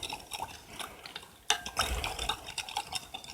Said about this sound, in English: That nice little stir like this.